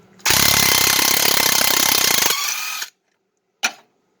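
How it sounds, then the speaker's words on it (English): A Craftsman 20 volt cordless impact gun hammers out a bolt in one loud, rattling burst of about two seconds, then winds down, followed after a pause by a brief second blip. "My Craftsman 20 volt impact gun at work."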